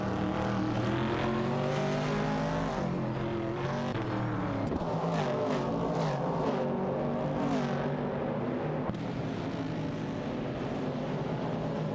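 Racing engines in a video game, including a Ford Mustang and a Ford Falcon, roar continuously and rise and fall in pitch as the cars fight for position, with a dense, steady drone and no talking.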